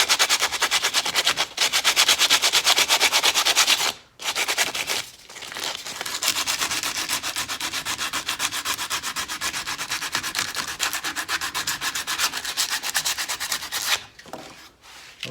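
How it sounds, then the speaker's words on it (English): Steady, loud abrasive rasp of 80 grit sandpaper working a plastic-welded sawmill blade guard, rubbing continuously with a couple of brief pauses, close up and with no voices. "A little bit of an 80 grit sand,"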